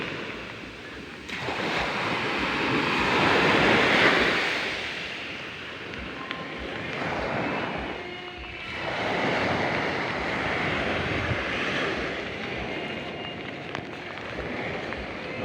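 Steady surf washing in and out on a calm sea, broad rushing swells rising and falling with some wind buffeting the microphone; no one speaks.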